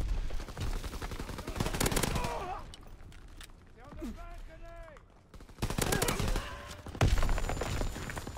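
A machine pistol fires in quick automatic bursts in Call of Duty WW2, loud clusters at the start and end with a quieter middle stretch, while someone talks.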